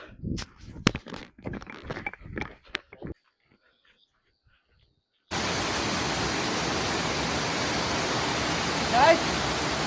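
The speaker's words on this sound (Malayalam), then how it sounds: "ദേ വെള്ളത്തിന്റെ സൗണ്ട് കേൾക്കുന്നുണ്ട്" Mountain stream water rushes in a loud, steady broadband roar on a forest trek. It follows a stretch of talk and footsteps, then a brief near-silence, and continues unbroken to the end.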